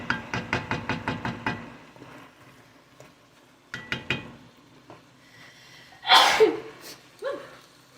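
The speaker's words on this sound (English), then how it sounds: "Oh, spices made me sneeze." A single sharp sneeze, set off by spices while cooking a vegan kabocha squash and red lentil curry, bursts out midway, following a run of rapid knocking taps and a few scattered clatters in a quiet room.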